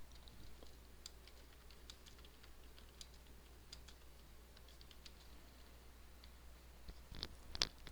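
Soft typing on a computer keyboard, faint and fairly close, with irregular light key clicks spread across the stretch and a few louder taps near the end.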